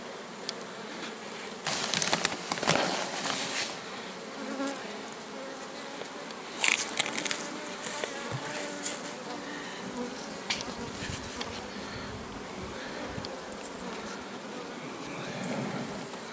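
Bees buzz steadily inside an opened beehive during expansion with extra boxes, a dense close hum that rises and falls with occasional louder passes and wooden knocks.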